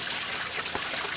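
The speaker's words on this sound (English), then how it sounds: "businesses downtown are pumping water through hoses like these" Water rushes steadily through hoses as it is pumped out of flooded downtown businesses, a continuous dense hiss and gurgle up close.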